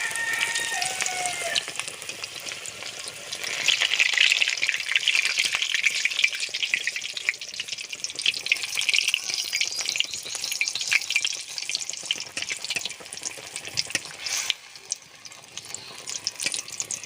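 Tomato and potato chops fry in hot oil in a wok, giving a loud, continuous sizzle with fine crackling that swells and eases slightly, heard close with no voices.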